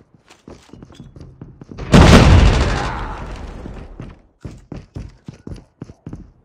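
A frag grenade detonates in COD Mobile: a single loud, close blast with a long decaying roar, set among sharp scattered thuds and clicks of gunfire and movement before and after.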